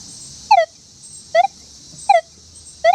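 Deus 2 metal detector in all-terrain general mode sounding over a silver dime: four short, rising electronic tones spaced evenly about a second apart, clear against a faint background hiss.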